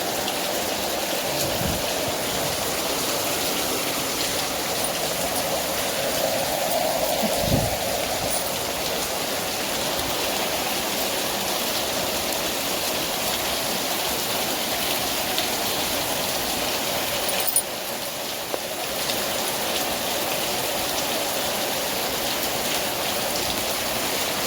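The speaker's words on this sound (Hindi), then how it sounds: "बहुत तेज़ बारिश हो रही है और यहाँ भी पानी आ गया है" Heavy rain pours down continuously outdoors, a dense steady hiss of drops on surfaces with running water nearby, loud and unbroken with no voices.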